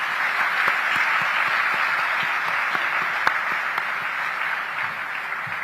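A large audience applauds steadily, a dense, even wash of clapping that holds at the same level throughout.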